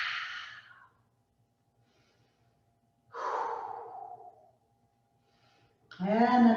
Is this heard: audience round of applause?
no